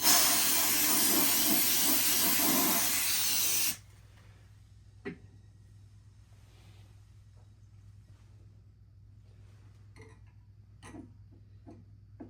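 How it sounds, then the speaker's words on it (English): A loud, steady aerosol spray hisses for several seconds into a Peavey 6505+ guitar amp during a retube, then stops, leaving quiet with a few faint clicks and taps. "Go ahead and spray it out."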